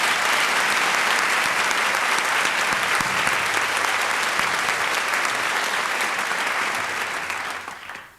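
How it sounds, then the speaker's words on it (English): An audience at a 2013 school opening convocation applauds tap dancers with sustained, dense clapping, loud and steady, before it tapers off at the end. "Can we give them another round of applause?"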